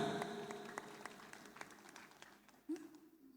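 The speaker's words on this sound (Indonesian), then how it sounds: "Berikan tepuk tangan yang meriah" Light applause from an audience at a Quran memorization recital after a correct answer, sparse scattered claps fading over a few seconds at low volume, with a faint thump near the end.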